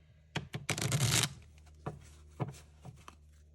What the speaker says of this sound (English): I was just dividing it in half and then shuffling this way.